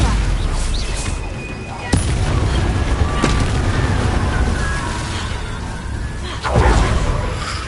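The Stupefy stunning spell cast in the video game Hogwarts Legacy, with sharp booming cracks ringing out at intervals over a dense, rumbling background of combat noise.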